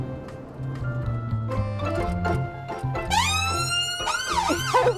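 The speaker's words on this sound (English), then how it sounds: "it is funny when you have to put the siren on" Ambulance siren switched on amid rhythmic rumbling and clatter, rising into a loud, wailing electronic tone in the second half with sweeping up-and-down pitch.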